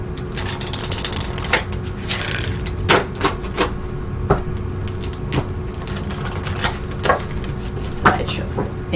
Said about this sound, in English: Shuffle? Okay, I can do that.